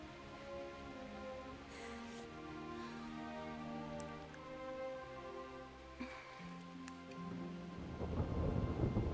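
A thunderstorm in the Kingdom Come Deliverance video game, with steady rain and low rolling thunder rumbling throughout at moderate loudness, swelling into a heavier crash near the end, with no voices.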